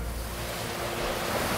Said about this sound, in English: The wind's whipping up.